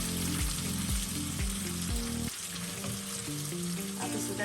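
Chicken pieces frying over medium to high flame in a pan, a continuous close sizzle beneath a low, steady, tonal hum that shifts pitch, no talking.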